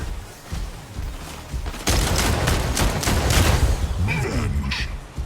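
Incoming gunfire in a mech combat video game erupts as dense bursts of rapid shots and booming impacts, loud and close, building after a quieter opening and continuing almost without pause.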